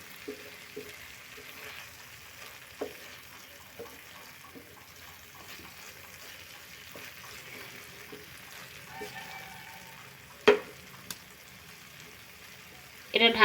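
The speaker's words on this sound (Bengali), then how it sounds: "গ্যাসের আঁচটা আমি লো ফ্লেমে রেখে মাছের এই মাছ ভুনার রেসিপিটা বানাচ্ছি" Fish bhuna cooks in a pan over a low gas flame, giving a soft steady sizzle and faint bubbling with occasional light clinks of a utensil against the pan.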